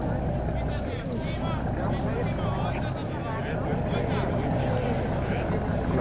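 A motorboat engine churns steadily on the water in fog in Venice, a continuous broad rumble with a faint clatter over it and no pause throughout.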